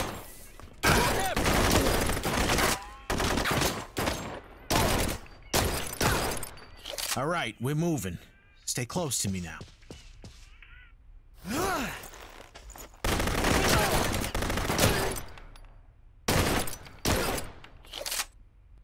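Gunfire in a shootout scene sounds in repeated loud bursts of shots separated by short gaps, while people talk, sigh and grunt between them.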